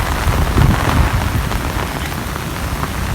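Heavy stormy rain pours down steadily and close by over farm crops, a dense, continuous hiss with no voices.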